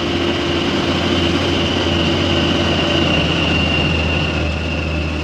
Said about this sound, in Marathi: परत या साईडला ट्रेन आली,